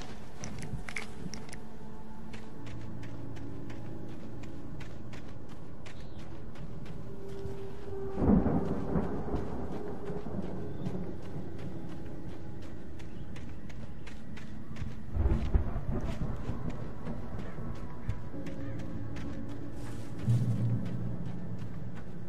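Thunderstorm in the Alan Wake video game: a steady wash of rain and wind with two heavy thunder rumbles swelling midway and later, and a faint third toward the end, with no talking.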